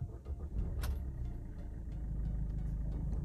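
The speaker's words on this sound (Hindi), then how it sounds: "So let's start the car." A Maruti Suzuki Brezza engine, at about 40,000 km, turns over with a sharp click, then settles into a steady, low, close rumble with no clunking, and no one speaks over it.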